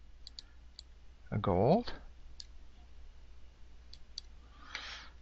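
A computer mouse clicking while image-editing software is used, a few sharp dry clicks scattered at an even pace, close and crisp, with a brief spoken phrase in the middle.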